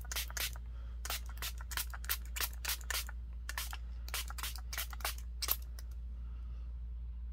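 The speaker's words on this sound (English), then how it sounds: "It's moving paint when you spray." Hand spray bottle misting water onto paint on a mixed media junk journal page, a quick series of soft hissing spritzes in bursts, close and fairly quiet over a steady low hum.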